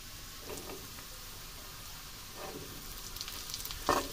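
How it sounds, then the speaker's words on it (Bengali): Small potatoes fry quietly in a pan, a faint, low crackling sizzle with light stirring, ending in a brief louder clatter. "আলু ভাজা এবার কমপ্লিট"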